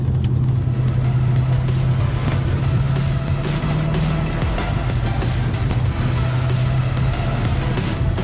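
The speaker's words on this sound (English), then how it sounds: "This cammed V8 has a really lumpy idle and it's fairly grumpy around town." A cammed V8 in an HSV VE Maloo R8 ute, heard from inside during town driving, gives a loud, steady low rumble with a lumpy, uneven pulse and only slight swells in revs, with no talking.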